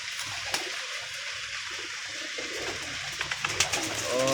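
Domestic pigeons of a strong, hardy show breed cooing softly in their loft, with faint fluttering and brief wingbeats, a trickle of water in the background and short louder bursts of calls near the end.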